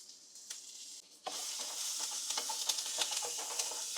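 Garlic and cooked potato frying in a pan make a soft sizzle that suddenly swells louder and brighter, with scattered crackles and stirring taps close by.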